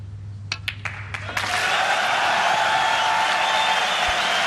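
A snooker crowd at a Players Tour Championship event in Antwerp bursts into sustained applause and cheering for a Ronnie O'Sullivan century break, a dense roar that swells after a few scattered early claps and holds steady.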